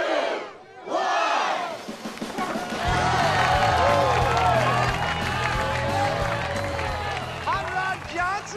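A studio audience bursts into loud cheering, whooping and sustained applause after a countdown, a dense crowd roar that fills the room and holds steady for several seconds.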